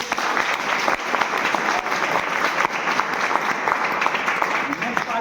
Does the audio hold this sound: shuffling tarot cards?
no